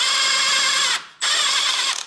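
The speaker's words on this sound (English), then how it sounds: "I need 17 millimeter socket what fits in here, and then I can open this" A ratchet with a 17 mm socket works a lower engine mount bolt on a 2006–2022 Honda Civic, giving two fast, loud, close runs of clicking split by a brief pause, with no voices.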